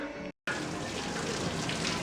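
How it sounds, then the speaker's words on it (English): Water gushes steadily while back flushing a dirty car radiator, a loud continuous rushing flow that drops out completely for a split second near the start and then resumes, with no talking. "back flushing the radiator again, so it was dirty"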